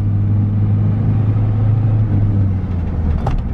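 Engine of a manual Danger Ranger car revving steadily with a deep, close rumble, the tone dipping briefly as gears shift near the end.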